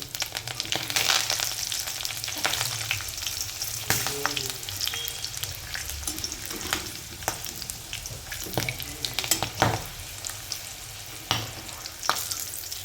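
Chickpeas for chana koliwada, along with unpeeled garlic, curry leaves and green chillies, deep-fry in hot oil with a dense, steady crackling hiss and occasional stirring clinks, close up and without voices.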